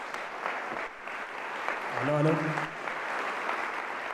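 Audience applause at an innovation talk, a moderate wash of clapping under a brief spoken greeting, fairly steady and slightly distant.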